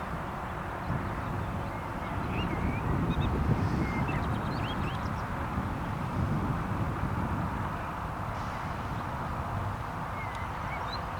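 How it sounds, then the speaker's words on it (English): Seagulls call at a lakeside fishery, scattered high cries over steady broadband outdoor noise, fairly faint and distant, with no talk. "And now we've got two seagulls."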